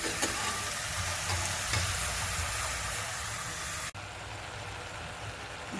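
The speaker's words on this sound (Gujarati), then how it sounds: "હવે તેમાં હું ગાજરની છીણ બધી નાખી દઉં છું" Grated carrot frying in ghee inside a pressure cooker, a steady broadband sizzle with faint stirring scrapes that drops slightly in level partway through, no speech.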